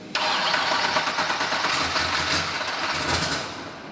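A car engine starts abruptly on a shop lift and runs at a steady, fairly loud idle for several seconds, easing slightly toward the end, with no voices.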